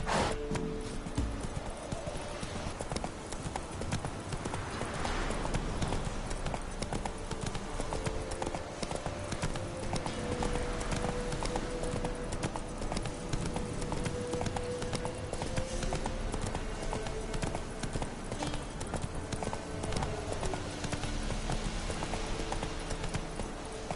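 Roach, the horse in The Witcher 3 video game, gallops with a steady rapid clip-clop of hooves that continues without a break, over a dense game soundscape with faint music.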